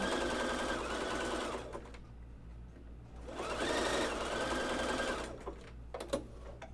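A home sewing machine stitches women's underwear in two sustained runs with a quiet pause between, close and fairly loud, ending in a few small clicks.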